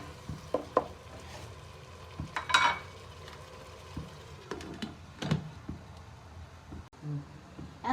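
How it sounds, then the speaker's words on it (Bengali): Baim fish, a spiny eel, being sautéed for a bhuna curry in a covered pan: a soft, low sizzle with scattered stirring scrapes and light ticks and clinks, close by and fairly quiet. "এখন মাছটা কষিয়ে নেব"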